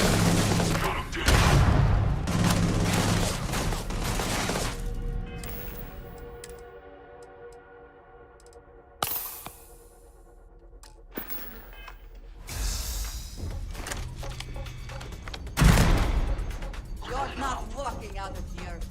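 A powerful, slow-firing weapon in Starfield booms out in heavy, widely spaced blasts, several loud close shots separated by quieter gaps with mechanical clicks and reverberant tails, and a voice talks over parts of it.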